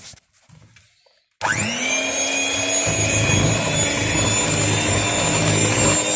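A stand or hand mixer whirs steadily, beating whole eggs, egg yolks, vanilla and a pinch of salt together for sablé cookie dough; after a second of quiet the motor starts and runs at a loud, constant pitch, alone.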